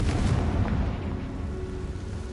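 A Confringo spell detonates in Hogwarts Legacy, a loud booming blast with a rumbling low-end tail that fades steadily over a couple of seconds, no voices.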